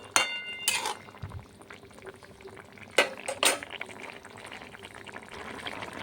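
Fish simmering in a pot of alu bata curry, a soft steady bubble and hiss heard close, broken by a few sharp clinks of a spoon or utensil against the pan.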